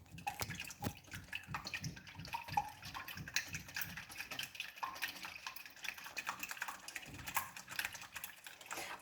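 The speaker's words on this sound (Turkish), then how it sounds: "iki tane yumurtamızı kırmıştık. Bunları çırpıyoruz" Two eggs being whisked with a fork or whisk, a fast run of close, crisp clicking taps against the bowl that keeps an even rhythm throughout, with no talk over it.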